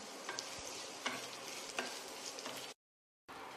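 Three large onions frying in a pan for a chicken dish, a steady sizzle with a few stirring scrapes, then a short silence before the sizzling resumes.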